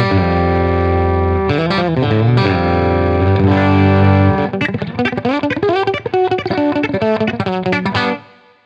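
Electric guitar through a Bogner Lyndhurst compressor with a clean, squeezed, compressed country tone: a sustained chord, then a run of quick, twangy picked notes ringing out before stopping.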